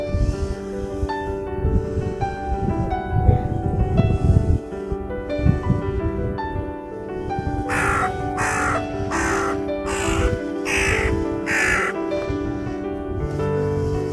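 Several crows caw in a loose series of harsh calls over a busy outdoor background with a steady low rumble.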